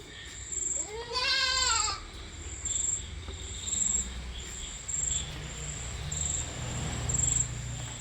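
A goat gives one loud wavering bleat early on, with fainter animal calls later, over a steady high chirping of crickets, from a small herd of heavy-built goats with a young kid.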